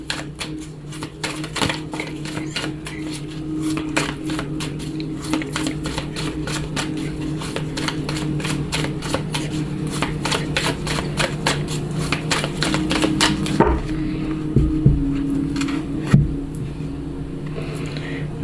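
A Lenormand oracle card deck is cut and shuffled, giving rapid repeated dry riffling clicks for a long stretch, then a few slower taps and card placements near the end.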